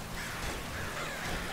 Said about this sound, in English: let's get it on, crows